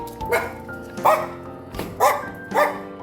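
A dog at an animal shelter barks at feeding time: four sharp, close barks at an uneven pace over a quiet room hum, with no talk.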